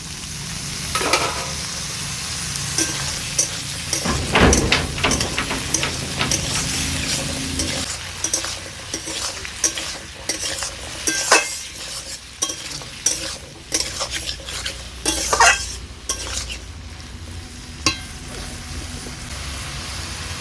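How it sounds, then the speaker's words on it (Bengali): Potatoes and eggplant sizzle steadily in a hot pan, with repeated clattering stirs and scrapes of a spatula running throughout, close and fairly loud, with no talk. "এবার এতে আমি বেগুন আর আলুটা দিয়ে দেব। দিয়ে দিচ্ছি আলু আর বেগুন।"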